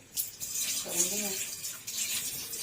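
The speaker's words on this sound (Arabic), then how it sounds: "تغسليها مره واثنين وثلاثه وتغيري لها الميه زي ما انا بغير كده" Dried black-eyed beans washed under running tap water, a steady splashing stream with short swishes and breaks, close by; a voice briefly sounds over it.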